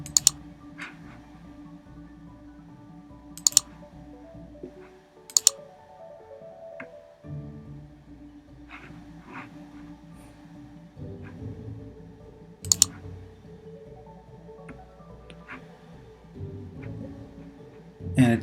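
Several sharp mouse clicks land sparsely over a low steady hum while right-clicking to run synchronization in Configuration Manager on a computer, with two clustered clicks near the start and isolated ones later.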